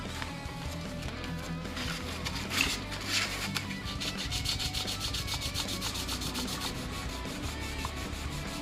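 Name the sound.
sanding a part of a Damocles Rhino model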